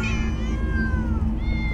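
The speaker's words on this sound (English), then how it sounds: "Many cats. So many cats." Several cats in the game Minecraft Story Mode meow in overlapping, drawn-out, pitch-sliding calls, loud and close, with no talk.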